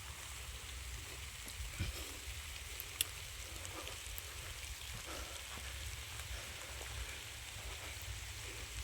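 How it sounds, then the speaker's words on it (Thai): Steady rain falls outdoors in a Thai rural setting, a soft continuous hiss with scattered drops striking nearby surfaces, faint and even throughout with no one speaking. "ฝนตก"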